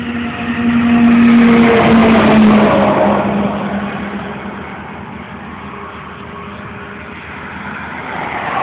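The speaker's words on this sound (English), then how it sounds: "Here's traffic. This is State Road 100." Road traffic on State Road 100 in Starke, Florida: a car or truck passes close and loud with rising engine noise, then fades into a steady roadside hum of traffic.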